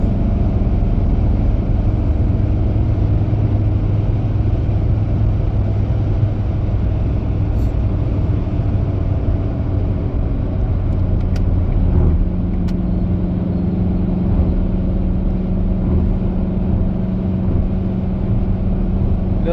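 Cabin drone of a 2012 Ford Fiesta 1.4 TDCi diesel at 120 km/h around 2800 rpm, a loud steady low rumble with road and wind noise and no breaks.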